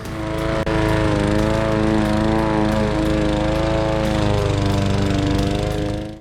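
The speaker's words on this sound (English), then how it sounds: "It's time for the string trimmer." A petrol string trimmer runs close and loud through tall grass, its high, buzzing engine whine holding steady for several seconds before cutting off at the end.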